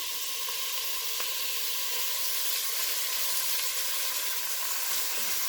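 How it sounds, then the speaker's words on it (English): Bacon frying in a pan gives a continuous bright, crackling sizzle, close and fairly loud, steady throughout with no talking. "Now while the bacon's cooking"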